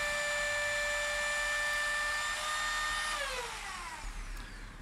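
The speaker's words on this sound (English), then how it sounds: "I also make inlays in the neck using a router jig." A router in a jig cuts inlays into a guitar neck, holding a loud, steady high-pitched whine that begins to wind down and fade after about three seconds.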